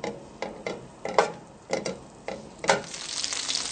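Butter, about a quarter cup, sizzles in a frying pan over medium heat with a series of sharp crackles and pops, the hiss growing denser toward the end.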